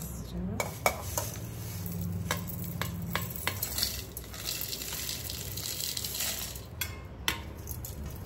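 A mixture for Kundapura-style prawns ghee roast is added to a hot pan and stirred, with repeated metallic scrapes and clinks of a utensil over a soft, continuous sizzle.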